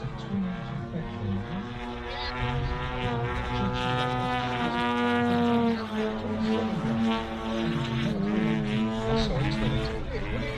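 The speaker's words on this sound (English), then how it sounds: "Sorry, it's kind of 2 engines, isn't it? Twin-cylinder, very, it'll be a boxer engine." A twin-cylinder petrol boxer engine drives an Extreme Flight Extra NG model aerobatic plane of 104-inch span at a model air show, a steady loud buzzing drone that rises and falls in pitch as the aircraft manoeuvres, continuous throughout.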